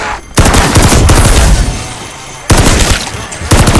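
Loud automatic gunfire blasting at zombies in a Call of Duty zombies mode, two sustained bursts of rapid shots separated by a brief lull, with a third burst starting at the very end.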